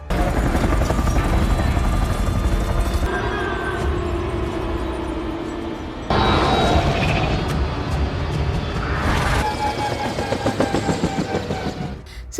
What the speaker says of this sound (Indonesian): Cat bisa selamat berkat mengendarai helikopter.